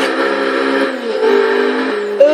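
Engine of a 1980 Fiat E23 Sport Spyder revving in the Forza Motorsport 6 racing game, a steady buzzing drone held throughout with a brief pitch rise near the end.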